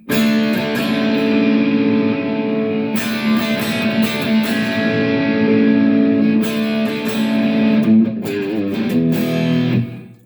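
Heavily distorted electric guitar chords through a Valeton GP-100 MXR distortion effect ring out in a steady, saturated wall of sound, with short pauses between strummed phrases, loud and close.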